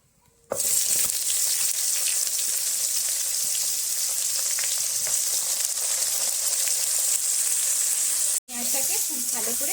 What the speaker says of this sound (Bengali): কড়াইতে এবার দিয়ে দিচ্ছি কাঁচা পেঁয়াজ